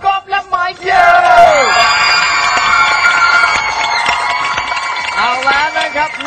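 A large audience at a Thai music show erupts in loud, sustained screaming and cheering for guest artists, a dense wall of shrieks and yells that follows a host's voice and carries on under more talk.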